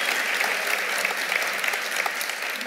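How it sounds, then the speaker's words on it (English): An audience at an onstage dialogue about animal liberation bursts into steady, sustained applause. The thick crowd clapping is fairly even, with scattered sharper claps standing out. "let's have a round of applause if you want to have that"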